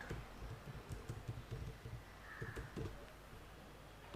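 Soft, rapid keystrokes and clicks on a computer keyboard, a quiet irregular patter of typing and backspacing while text is edited, heard alone without speech.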